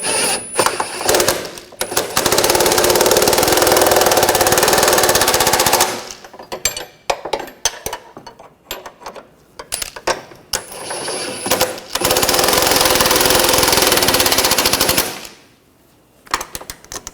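A 2013-2019 Ford Escape's front lower control arm bolts being snugged with an impact wrench: long, loud, rattling bursts of hammering, separated by short pauses and quieter clanks, with no voices.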